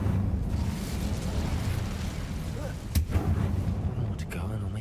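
An Incendio fire spell cast in a video game roars as a continuous, dense rumbling blaze under steady game ambience, with a brief sharp burst near the three-second mark.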